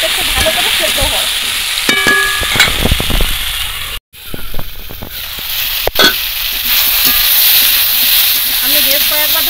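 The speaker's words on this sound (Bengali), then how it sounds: "পুঁই ডাঁটা, আলু, বেগুন, লবণ দিয়ে একটু নাড়াচাড়া করে বা ঢাকা দিয়ে দিয়ে সবজিগুলো একটু ভাজবো," Malabar spinach stems, potato and eggplant fry in a pan, a close, steady sizzle and hiss broken by scrapes and clinks as they are stirred, with a brief dropout partway through.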